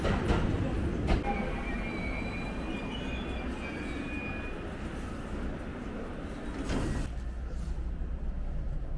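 A local train in Hiroshima, Japan rumbles steadily nearby with a low roar, faint wheel squeals and a couple of brief clunks along the way.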